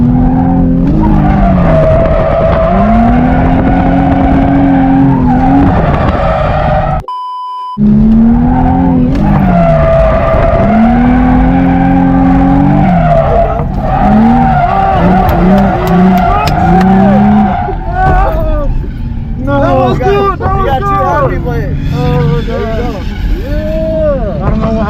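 An Infiniti G35 drifts around a track corner, its engine revving up and down in loud sweeping surges with tire squeal, while people talk over it.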